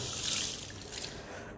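Water poured and splashing during wudu ablution, a steady close rush of running water from a tap that eases slightly partway through, with no voices.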